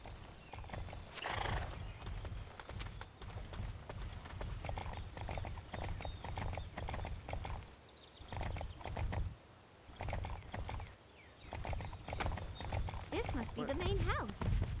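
Hooves clip-clop steadily as a horse moves along, with a whinny near the start and continuous game-style background sound throughout.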